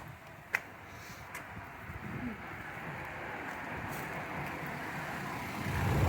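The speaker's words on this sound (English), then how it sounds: "Boy, here comes a car." A car approaches along a rural road on a walking pilgrimage route, a low engine and tyre rumble swelling gradually from far to nearer, with a sharp tick early on and faint outdoor ambience.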